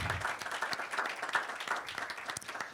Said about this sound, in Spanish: Le pido un fuerte aplauso para el licenciado Ramón Núñez